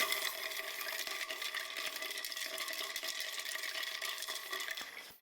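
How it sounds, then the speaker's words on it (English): Ice stirred in a mixing glass for a Rob Roy cocktail with orange bitters, a steady close rattle and clink of cubes running without pause for about five seconds, no voices. "Stir it up."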